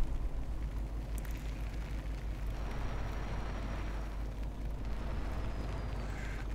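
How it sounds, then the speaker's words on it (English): A steady, low droning truck engine from a mod in Farming Simulator 17 rumbles on without pause, with a faint high whine drifting over it. "Still love the sounds of the engine in this mod"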